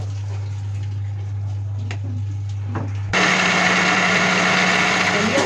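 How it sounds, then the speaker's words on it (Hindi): An electric kitchen grinder pulverizes broken wheat with flour, switching on after a quiet hum to a loud, steady high-pitched whirring grind that runs to the end. "इसे हम ग्राइंडर में बारीक कर लेंगे।"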